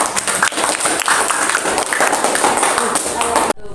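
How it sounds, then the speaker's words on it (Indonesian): A group of people in a classroom claps hands together in a sustained, dense burst, loud and close, with voices mixed in, ending abruptly. "Tepuk tangan."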